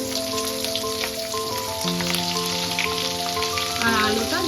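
Cut cauliflower and potato fry in hot oil with a loud, steady sizzle and crackle. Music plays underneath.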